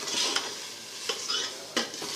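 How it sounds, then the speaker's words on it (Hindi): Dal lentils frying and being stirred in a pan for chicken daal, a soft steady sizzle broken by a few clinks of a spoon against the metal, with no talking. "फिर दाल डाल दी है, थोड़ा सा भूनेंगे"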